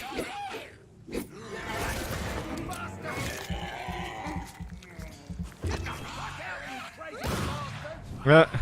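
Gunfire in the Vampyr video game sounds in scattered sharp shots amid game action and background sound, with someone speaking over much of it and a loud burst near the end.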